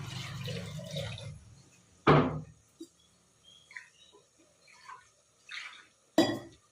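Rinse water from a mixer jar poured into a pan of gavvarakayi (cluster bean) masala kurma, heard as a soft splash and trickle early on, then a few sharp clinks of the jar against the pan and quiet drips.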